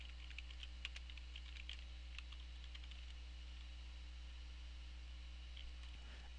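Keys clatter on a computer keyboard during a Cisco module configuration session, quick irregular clicks in short bursts over a low steady electrical hum, faint and close with no voices.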